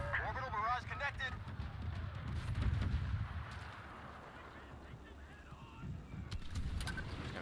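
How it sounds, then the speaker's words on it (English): Orbital barrage explosions in Star Wars Battlefront 2 rumble as a dense, continuous low booming beneath game noise and talking voices. "Orbital barrage connected."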